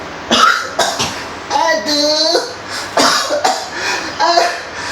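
Several short coughs, close to the microphone, spaced through the moment with a strained vocal sound in between.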